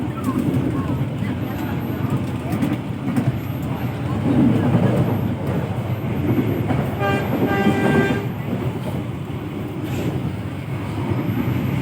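A Bengawan passenger train in Indonesia rumbles nearby with a steady low rolling and rail clatter, a brief tonal horn-like blast in the middle, while people speak and a station announcement plays over it.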